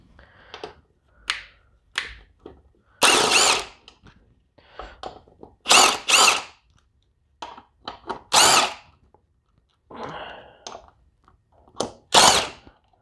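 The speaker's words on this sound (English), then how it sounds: "So let's go ahead and get these lugs off." A power tool spinning lug nuts off the front wheel of a 1995 Honda Fourtrax 4x4 ATV, giving sharp, loud bursts of rapid hammering in irregular clusters, with shorter rattles and pauses between the heavier hits.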